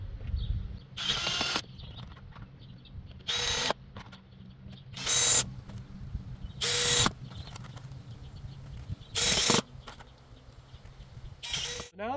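A power drill drives screws into wooden planting box boards in six short, loud bursts separated by quiet pauses, heard up close with no talking.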